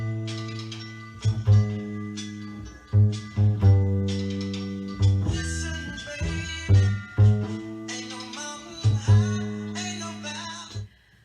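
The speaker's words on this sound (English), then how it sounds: "you could still create a groovy bass line just following the chord progression and playing" An electric bass plays a groovy line on chord roots, distinct plucked low notes in a syncopated pattern with sustained ringing tones, played alone and close.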